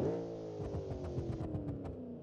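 A supercharged V8 drag racer in BeamNG.drive revs up with a strong harmonic growl, pitch sweeping and pulsing through a couple of throttle blips, loud and close with no voices.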